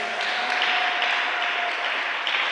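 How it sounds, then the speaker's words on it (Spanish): Church congregation applauding during a Sunday morning Christian sermon, a steady wash of many hands clapping at once, fairly close and continuous with no break, a faint tone running beneath it. "Dale el aplauso a la palabra de Dios."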